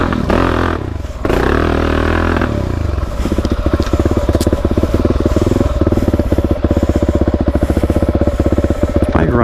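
Suzuki DRZ dirt bike engine running rough with the choke left open, a loud close idle that stumbles and crackles, with a steady pulsing roughness and an occasional rise in revs.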